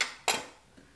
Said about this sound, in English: And then I cut it into quarters.